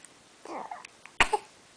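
A small child's short cough, followed by a few faint breathy vocal sounds, close by in a quiet room.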